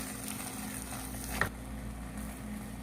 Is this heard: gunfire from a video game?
no